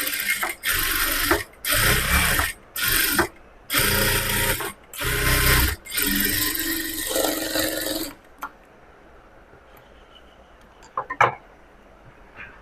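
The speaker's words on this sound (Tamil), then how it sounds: "இப்போ இந்த மாதிரி திருப்பிட்டு இது மேலே ஒரு 1/4 இன்ச் தள்ளி ஒரு படிமான தையல் போடுறேன்." Sewing machine stitching a seam on a frock, running in loud bursts separated by short pauses, then stopping; faint handling clicks follow in quiet.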